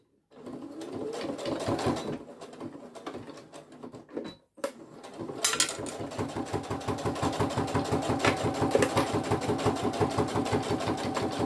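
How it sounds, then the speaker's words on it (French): A sewing machine runs close and loud while stitching a phone pouch, sewing in short bursts at first, then pausing before settling into a long, steady rapid hum of stitches. "On va coudre tout le long, jusqu'en bas."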